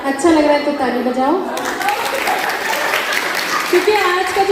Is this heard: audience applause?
yes